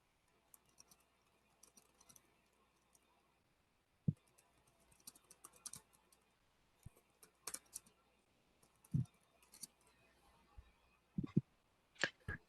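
Keys clatter on a computer keyboard during an online tabletop game session, sparse quiet taps and short bursts of typing with a few sharper clicks, close and faint, with no talk over it.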